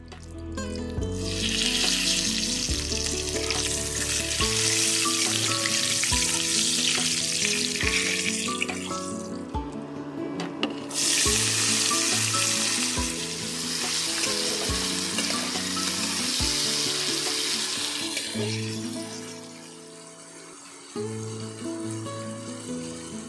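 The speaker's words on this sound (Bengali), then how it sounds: "মশলা থেকে একটা সুন্দর গন্ধ ছাড়তে শুরু করলে তাতে পেঁয়াজটা দিয়ে দেবো" Onions frying in oil with dried red chillies, cinnamon, cloves, cardamom and bay leaves for a chicken curry: a loud, continuous close sizzle with a brief drop near the middle, stirring underneath and no talking.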